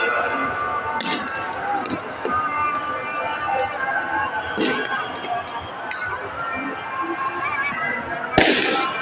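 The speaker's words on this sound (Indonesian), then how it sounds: "Banyak banget bro yang main petasan bro" Firecrackers pop and crackle at a distance amid a busy crowd's babble near Manggarai station, Jakarta, on Eid takbir night, with one sharper, nearer bang toward the end.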